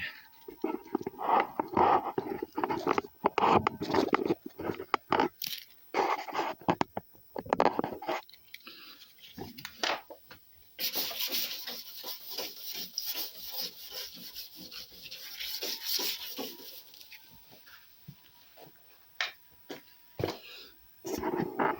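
Hand sanding on the tailgate of a black Peugeot 306 being prepared for paint, a close, uneven rasping scrape in bursts that settles into steadier rubbing strokes later on.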